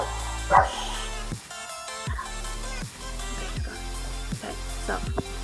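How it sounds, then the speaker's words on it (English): A dog barks several times at a steady rhythm over a constant background hum. Nobody speaks. "And there's a dog."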